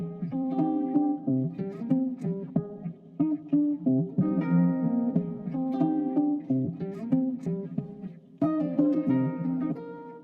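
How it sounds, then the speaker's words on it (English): A single sustained plucked guitar tone on C4 with rich harmonics, played on its own, then restruck and held, bright and fairly loud. "it was like a guitar phrase from this arcade new chapter library"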